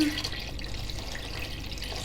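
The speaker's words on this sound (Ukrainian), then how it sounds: "Розчиняємо в холодній воді і заливаємо так, щоб повністю були сині покриті розсолом." Cold salt brine poured over eggplants in a jar makes a soft continuous splashing trickle, close and moderately quiet, with no voices over it.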